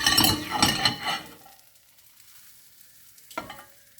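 Batter sizzles loudly in a pan for about a second and a half, then the frying fades to near quiet, broken by one brief clink near the end.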